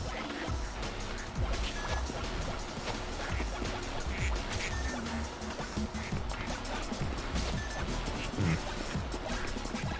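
Ducks quacking in a game, a dense, continuous chorus of many overlapping quacks mixed with watery splashing, loud and steady throughout with no voices on top.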